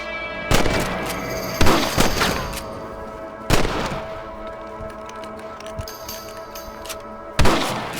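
Gunshots fired at rabbits in Red Dead Redemption Undead Nightmare, four sharp loud reports spaced a couple of seconds apart, each with a short echoing tail over a faint outdoor game ambience.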